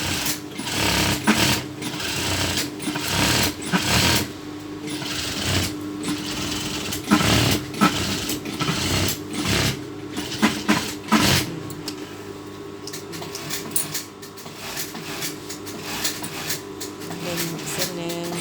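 Sewing machine stitching a double edge seam along fabric with a single presser foot, running in loud bursts with short pauses, while a person talks over it.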